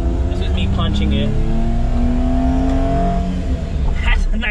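A Daihatsu Midget II at full throttle from the driver's seat, its small engine revving up with a rising, buzzy tone that climbs steadily, loud and close, with brief talk over it.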